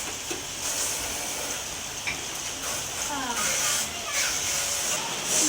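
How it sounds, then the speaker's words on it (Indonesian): Eggs sizzle steadily in a frying pan in a home kitchen where food is being prepared for a tahlilan gathering, a continuous soft hiss running under nearby conversation. "Telurnya digoreng ini ki"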